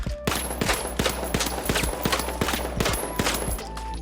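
An MP5 submachine gun in The Finals fires in steady rapid bursts, a dense run of sharp close shots with a few brief pauses, over a constant low hum and a faint high tone.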